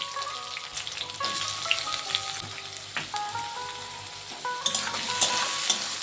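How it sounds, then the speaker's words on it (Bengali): Onion, garlic, ginger and curry leaves fry in hot oil in a pan with a steady crackling sizzle, while a spatula scrapes and stirs them at intervals, close and clear with no talking. "পেঁয়াজটিকে দিয়েও একটু ভেজে নেব। একটু নেড়ে চেড়ে নিয়েছি।"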